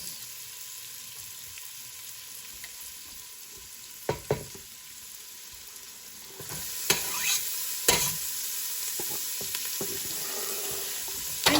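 Carrots and onions fry in a pan with browned garlic, a steady close sizzle with scattered sharp clicks and scrapes of stirring, growing busier in the second half, no voices.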